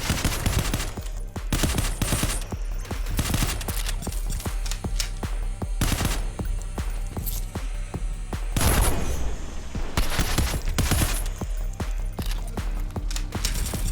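Pistol gunfire in the cyberpunk roguelike shooter Phantom Proxy, dense rapid volleys of sharp shots rolling almost continuously over loud game sounds, with a few brief pauses between bursts.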